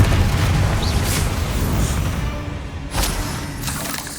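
A Confringo fire-blast spell explodes in Hogwarts Legacy with a loud, dense boom that fills the clip, followed by a second burst near the end, and no voices.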